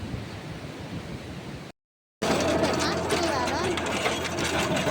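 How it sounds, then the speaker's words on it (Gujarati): A tractor pulling a rotavator works a field for the fifth pass before planting, its engine giving a steady rumbling drone with gusts of wind noise, briefly cut off by a short gap, then continuing loud and close. "ખેતરમાં પાંચમી વાર ટ્રેક્ટર રોટાવે છે"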